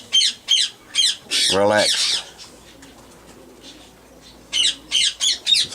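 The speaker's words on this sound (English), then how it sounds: "very funny sounding pigeon, that" Pigeons in a racing loft give repeated sharp, squawky bursts, then a longer harsh rasping squawk, a quieter pause, and more quick squawks in a row, all close by with a brief voice in the middle.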